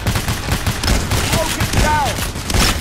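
Gunfire in the Payday video game during a diamond heist mission: rapid bursts of shots crackle close and loud, with brief tonal game effects mixed in.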